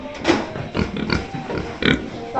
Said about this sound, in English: Four fat piggies.